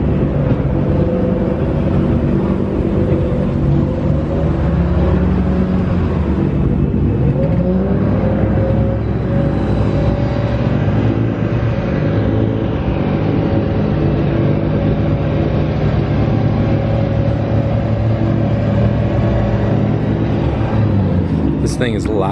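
A Nissan R34 GTR time attack car at a track day, its engine droning loud and steady with a sustained rumbling whir and a slight rise in pitch midway, voices faintly beneath it.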